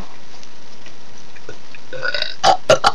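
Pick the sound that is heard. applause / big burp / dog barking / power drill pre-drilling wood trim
big burp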